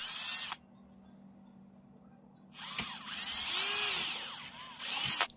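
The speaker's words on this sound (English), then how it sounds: "So I drill a hole." A power drill whines in two bursts, a short one at the start and a longer, rising and falling run after a pause, close and loud, drilling a hole in a Boba Fett helmet.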